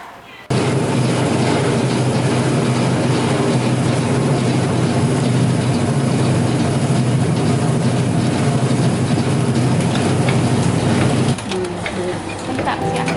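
Herbal drink packaging machine running steadily at close range, a dense continuous mechanical hum and rattle that holds level for most of the stretch, then drops slightly in the final seconds.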